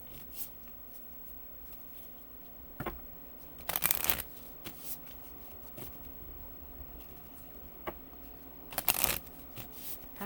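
A deck of oracle cards is shuffled quietly indoors, with two distinct riffling bursts and softer card handling between them.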